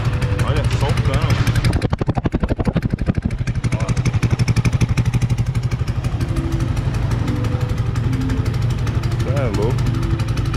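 Honda XRE 190 motorcycle running with a straight exhaust pipe on a trail, its loud engine note revving sharply in rapid pulses, then settling into a steady rumble while people talk over it.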